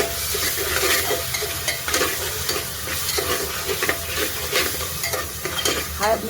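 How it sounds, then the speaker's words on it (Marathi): Ginger, garlic and coriander paste fries in a pan while being stirred, with a steady sizzle under repeated scraping strokes and light clinks from the spoon against the pan. "अद्रक लसणाची पेस्ट, अद्रक कोथिंबीर लसूण आणि काय नाही, चांगलं हलवून घेते"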